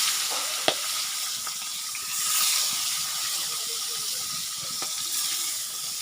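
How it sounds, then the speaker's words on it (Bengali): Fish frying in a pan at home, a continuous close hissing sizzle with faint bubbling, one sharp utensil tap early on and a gentle swell of steam in the middle, no talking. "এই যে মাছ হলো ভাজা হয়ে গেছে"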